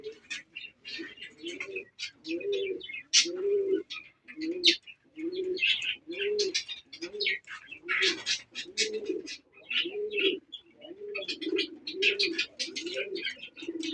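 Domestic and foreign pigeons cooing at a pigeon farm, a steady series of low, rhythmic coos with sharper chirps and tweets from other birds mixed in, moderately near but fairly quiet overall.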